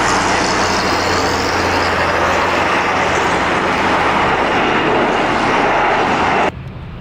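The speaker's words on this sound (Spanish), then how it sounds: "El Airbus A340 realizó un despegue en el último momento, justo antes de llegar al final de la pista" An Airbus A340 jet roars loud and steady in a strained takeoff at the very end of the runway, a broad continuous rumble that holds for several seconds before cutting off abruptly near the end.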